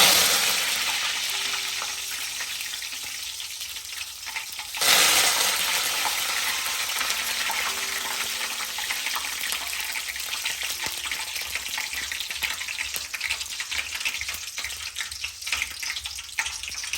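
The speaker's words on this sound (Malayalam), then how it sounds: "കടുകെല്ലാം പൊട്ടിക്കഴിഞ്ഞു. ഇനി കരിയാപ്പില ഇടുക." Curry leaves dropped into hot oil with popped mustard seeds, a sharp burst of sizzling that settles into steady crackling spatter, close and fairly loud, with no talking.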